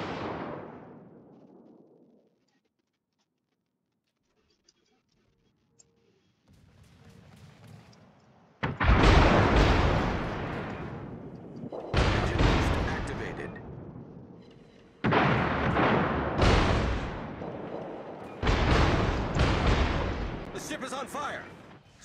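Heavy warship main-battery salvos in World of Warships, a distant boom fading out, then five loud rumbling blasts in a rough rhythm every few seconds, each with a long decaying roar.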